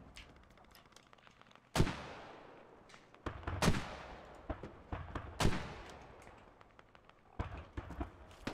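Gunfire in a video game during a street push toward an enemy base: a few loud, sharp shots crack out one at a time, each followed by a long, ringing decay against a quiet background.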